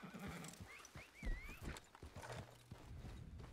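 A horse whinnies with rising and falling neighs, while hooves clop and thud irregularly around it, fairly quiet and with no talk over it.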